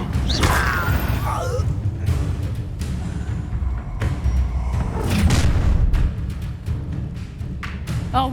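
A fire spell blast in Hogwarts Legacy gives a whooshing burst followed by rumbling booms, thuds and crackling impacts amid continuous game battle noise, loud and near.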